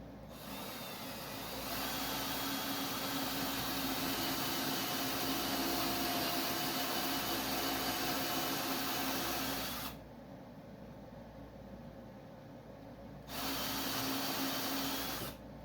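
A power tool runs continuously with a steady mechanical whine and buzz, briefly changing pitch partway through before resuming at full strength.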